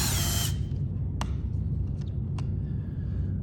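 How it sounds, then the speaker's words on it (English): A power driver whirs loudly for half a second while removing the screws that hold a wireless charger tray in a Flexsteel 1587 Carter power console. A few sharp clicks and light plastic knocks follow over steady background hum. "I'm going to remove those two screws"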